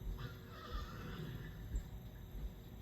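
A horse neighs and whinnies as a sound effect in an Alexa voice game about guarding horses from a thief, a fairly faint whinny with a few soft hoof clip-clops over a steady low hum.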